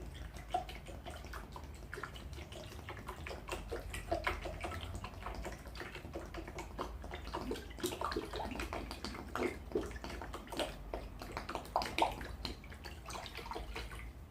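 One litre of ethyl alcohol is poured into a large container, a continuous soft liquid splash and trickle with scattered drips running steadily and close by throughout.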